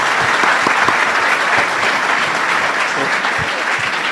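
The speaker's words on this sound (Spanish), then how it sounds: "Bueno, un aplauso, la verdad." Applause from a conference audience at a business event in Latin America, a dense, steady wash of clapping filling the room for about four seconds, loud and continuous with no talking over it.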